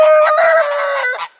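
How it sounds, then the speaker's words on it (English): A rooster on a homestead gives a single loud, close crow, a drawn-out call lasting just over a second with no other sound around it. "Alright, Mr. Rooster."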